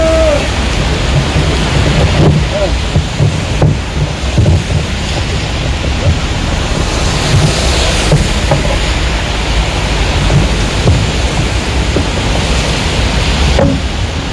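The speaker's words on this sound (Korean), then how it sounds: "박수로 맞아주십시오." An audience at an outdoor political rally in spring rain claps in a sustained, dense, loud wash of applause that continues steadily throughout.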